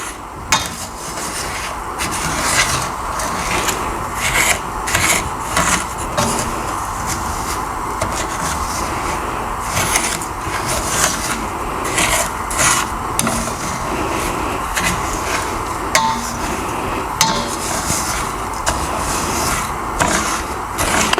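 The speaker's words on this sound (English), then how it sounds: "So the sugar started to melt. So just keep stirring." Sugar melting for Samoan coconut jam (siamu popo) is stirred in a handleless pan, a continuous close scraping and rubbing with a rhythmic rasp of the spoon against the metal.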